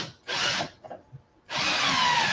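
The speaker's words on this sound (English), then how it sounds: "Let me do these bottom ones first because my drill is going to hit right here on the edge." A power drill bores into an arcade cabinet while a light-up marquee is installed, in two loud sustained whirring bursts separated by a pause with a few faint knocks.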